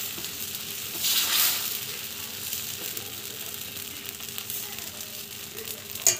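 Dosa batter mixed with rava sizzling on a hot tava, a steady close hiss with a louder frying burst early on and a brief sharp tap near the end, no talking.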